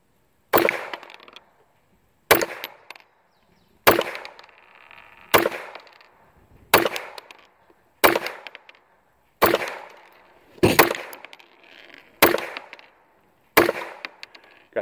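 Smith & Wesson 422 .22 pistol firing ten evenly spaced single shots outdoors, each a sharp crack followed by a brief fading echo, with a little over a second between shots.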